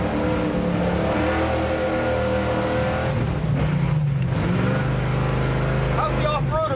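A Roadrunner car engine revs loud and steady, its low drone rising and falling off-road with a faint whine near the end, while a voice talks over it.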